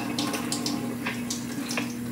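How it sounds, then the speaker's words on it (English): Kitchen tap running while a spoon is rinsed under it, a steady close hiss of flowing water with faint splashing over its short length. "I'm gonna rinse this off."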